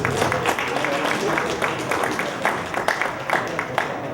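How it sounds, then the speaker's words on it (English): Crowd at an amateur boxing match, the DMK Silver Gloves 2020, applauding between bouts, a dense, continuous patter of clapping with scattered louder claps, fairly close and filling the whole stretch. "Another round of applause."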